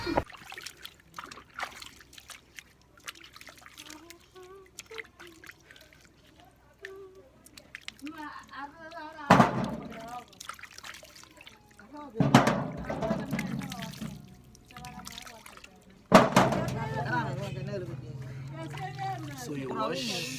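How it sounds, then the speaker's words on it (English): Peeled cassava tubers being washed by hand in water, with trickling, pouring and splashing bursts that grow louder in the second half, mixed with talk. "After peeling off the cassava, what you need to do is to wash the cassava."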